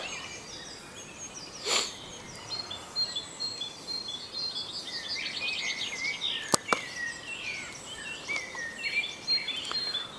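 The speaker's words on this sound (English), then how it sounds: "Nothing but the sound of birds." Faint bird chirps and calls scattered over a quiet outdoor background, with one sharp tweet standing out partway through.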